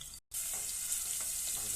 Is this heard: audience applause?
no